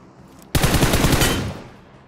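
A single rapid burst of automatic gunfire in PUBG Mobile, set on the Sanhok map, rattles loudly for about a second before trailing off.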